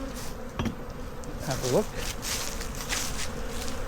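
Honeybees buzz steadily around a backyard hive with dead bees piled at the entrance, a dense close drone throughout while a person briefly speaks.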